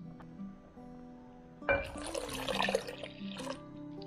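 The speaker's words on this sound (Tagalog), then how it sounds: "Lagyan natin ng konting tubig, mga 2 cups" About two cups of water pour into a cooking pot for ginataang halo-halo, a short faint splashing gush lasting around two seconds over quiet background hum.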